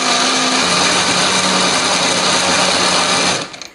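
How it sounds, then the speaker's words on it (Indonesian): A blender grinds chili, ginger and galangal with a little water into a spice paste, a loud steady close whirring motor that runs continuously and then cuts off abruptly near the end. "Nah semua bahan ini akan kita haluskan ya, termasuk lengkuasnya akan kita haluskan."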